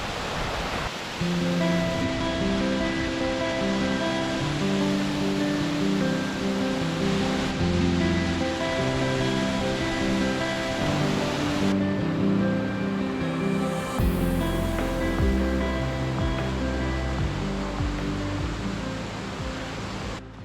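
Continuous rushing water of a flowing stream in the Rubicon area, Victoria, fills the clip, a dense steady roar, loud and unbroken with no talking.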